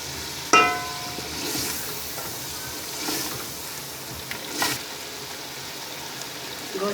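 Meat sizzles and fries in masala in a pot, with a soft continuous crackle and a few scraping stirs of a spoon, moderately close and without speech.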